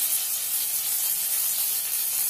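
Green chillies sizzling in a pan of hot oil, a steady bright hiss that holds evenly throughout with no talking over it.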